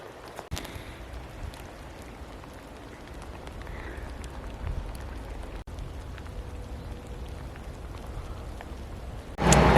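Steady rain falls on a rural riverbank that has just been cleared of grass and shrubs, a continuous fine patter holding at an even level throughout, with a louder burst right at the end and no voices.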